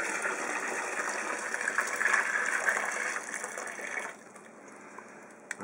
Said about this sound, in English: So now all we do is take the pot and dump it into our 5-gallon bucket of water